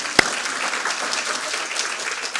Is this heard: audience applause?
yes